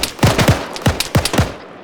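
Gunfire in ArmA 3 during squad training: about six sharp, close shots in quick uneven pairs and bursts over under two seconds, each crack followed by a short low thump, with no voices.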